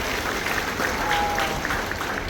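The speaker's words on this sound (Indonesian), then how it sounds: "Beri tepuk tangan yang meriah." An audience at a school scout council leadership handover ceremony claps in a steady, even wash of applause that holds throughout at moderate loudness.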